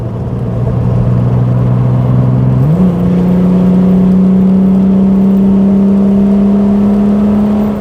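A Gilbern Invader Mk3 sports car's engine drones loud and close at around 3,000 rpm while driving through a bend, its steady hum stepping up slightly in pitch partway through.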